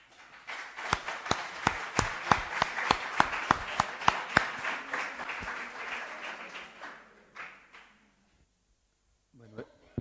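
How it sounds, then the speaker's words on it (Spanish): A gathering audience applauds a speaker at a San Vicente de Paúl event, with sharp, dense clapping and a few louder individual claps that continue steadily for about seven seconds, then fade and stop into near silence. "Yo os invito, si queréis, que le demos un aplauso"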